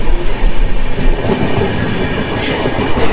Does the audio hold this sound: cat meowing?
no